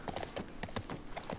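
Horse hooves clip-clop in a steady, quick rhythm while riding in The Last of Us, each hoofbeat sharp and moderately close, with no talk over them.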